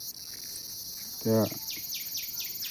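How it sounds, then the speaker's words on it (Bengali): Crickets near a cremation ground in deep midnight darkness keep up a loud, steady high-pitched chirring with regular pulsing trills, broken by one short low spoken syllable. "গভীর অন্ধকার, ঝিঝি পোকার ডাক"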